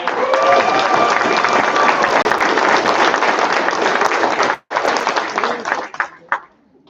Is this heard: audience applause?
yes